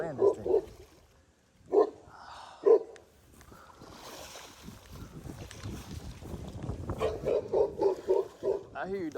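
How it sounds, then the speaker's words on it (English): A dog barks in short bursts at a fishing spot, a few sharp yelps at first and then a quicker run of barks near the end, mixed with wind noise and someone talking. "I hear you, doggy."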